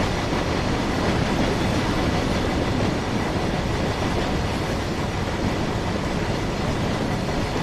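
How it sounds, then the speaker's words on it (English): Bogies of a BR Class 31 diesel locomotive running over the track in the Train Sim World 2020 video game, heard as a loud, steady, dense rolling roar that continues evenly throughout. "Probably one of my favourite things about train sim is the bogie noises."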